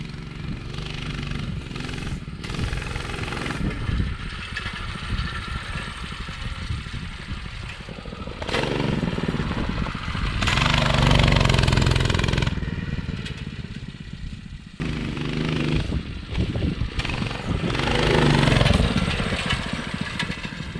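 A Doodlebug DB30 minibike fitted with a Predator 212 engine runs nearby, its single-cylinder chatter rising and falling as the throttle surges on and off in uneven bursts.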